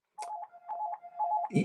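Short bursts of telephone dialing tones beep in a quick irregular sequence, fairly close and clear, ending with a brief clatter of handling noise.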